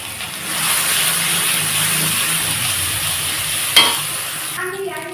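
A spice paste of ground ginger, chili and cumin with salt and turmeric sizzles and hisses steadily in a pan, with a sharp clink of the spoon near the end.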